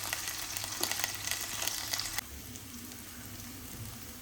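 Small onions (shallots) sauté in a pan toward browning for a village-style Tamil fish curry, crackling in a busy sizzle that suddenly drops to a softer, quieter fry partway through.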